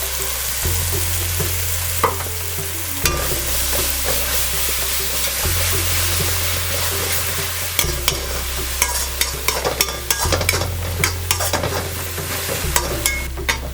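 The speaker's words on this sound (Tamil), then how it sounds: "இது வந்து இந்த நம்ம போட்ட வெங்காயம் எண்ணெயில் இந்த அரைச்சி விட்ட பேஸ்ட்டு பச்சை வாசனை போக எண்ணெய் பிரிஞ்சு வரட்டும்." Onions and ground ginger-chili paste sautéing in oil for vegetable fried rice, a continuous close sizzle broken by frequent scraping and clinking stirring strokes, over steady background music.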